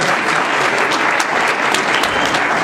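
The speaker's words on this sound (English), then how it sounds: "As well as Leslie Hadfield, so I give a round of applause for her." Audience applause at a Haiti independence celebration, a dense, steady wash of many hands clapping at once that holds at full strength for a few seconds.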